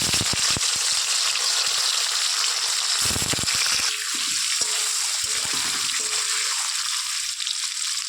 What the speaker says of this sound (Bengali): তেল গরম হয়ে গেছে, আমি এখন এই যে পনিরগুলো ভেজে নেব